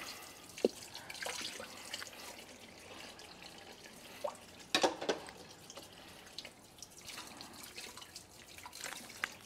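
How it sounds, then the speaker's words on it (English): A kitchen tap running at low water pressure, giving thin trickling and irregular drips with a few louder splashes, fairly quiet and close, no voices. "The water pressure right now is crazy low."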